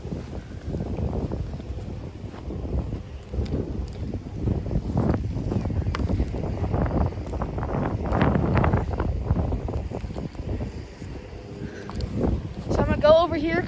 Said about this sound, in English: I don't think the wind's blowing as bad down here